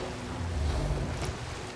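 Water in a pirate game: a continuous low wash of sea and waves, steady and moderately loud, with no talk.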